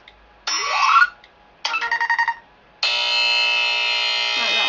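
Electronic buzzer effects from the Appzilla 2 app: a rising harsh tone, then a rapidly pulsing burst, then a long steady grating buzz, all synthetic and fairly loud, with no talking.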